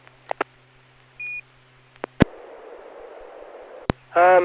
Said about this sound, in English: Something goes beep, beep, beep. I don't know if it's my radio or the repeater.